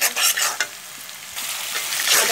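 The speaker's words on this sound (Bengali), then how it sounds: "আদা রসুন বাটা, পেঁয়াজ বাটা একটু ভালো করে আমরা কষিয়ে নিব।" Onion paste and ginger-garlic paste fry with browned onions in a pan, loud close sizzling broken by quick scraping stir strokes, then a steadier hiss.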